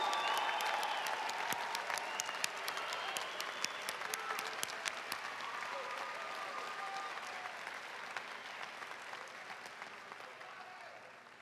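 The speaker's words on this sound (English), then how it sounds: "Let's have one more serious round of applause for all of our 2019 graduates" Steady, fairly faint applause from a large crowd for the 2019 graduates at a university pre-commencement ceremony, a continuous wash of clapping that slowly fades over about eleven seconds.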